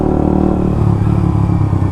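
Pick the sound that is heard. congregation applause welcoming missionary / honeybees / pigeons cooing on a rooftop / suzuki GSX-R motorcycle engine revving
suzuki GSX-R motorcycle engine revving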